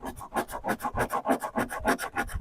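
A cheese grater file rasps across cured car body filler in a body shop repair, making a steady series of about fifteen rhythmic, close scraping strokes, loud and rough, with no voices.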